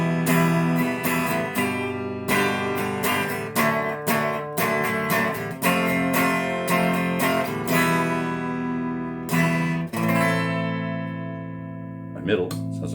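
An Epiphone Les Paul style guitar with double humbuckers, played clean on the treble setting through a Mesa Boogie amp: strummed chords ring out brightly in a steady rhythm, close and clear, ending with a sustained decaying chord.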